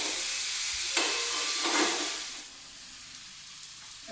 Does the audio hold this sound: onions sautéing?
yes